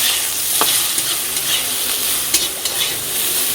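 Eggplant with salt and turmeric frying in a pan, a loud steady sizzle close by with a few sharp scraping stirs, no voices.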